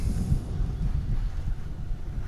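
Wind buffets the microphone in low, uneven rumbling gusts at DFW International Airport, with no other sounds standing out.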